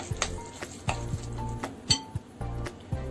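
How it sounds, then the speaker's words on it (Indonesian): A spoon clinks and scrapes against a bowl in a steady stirring rhythm while mixing chicken, with sharp taps at irregular intervals, close and fairly quiet. "Kita aduk dulu terlebih dahulu ya teman-teman, seperti ini"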